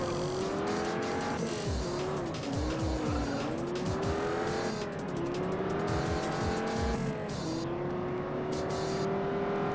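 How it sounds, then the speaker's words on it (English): A race car in a racing video game, its engine revving loudly and continuously through gear changes while tires squeal and skid repeatedly through corners. "I was just trying to make sure I didn't spin."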